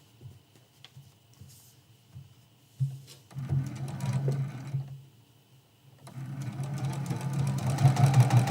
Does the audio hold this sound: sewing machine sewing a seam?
yes